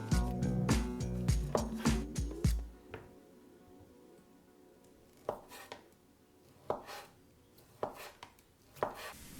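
A knife slicing Vietnamese pork roll on a cutting board: a quick run of close chopping taps at first, then a pause and several separate, sharper cuts spaced out.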